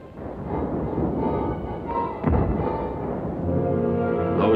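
German artillery firing from the hilltops around Salerno: a continuous rumbling barrage with a sharp heavy blast midway, followed by further distant booming.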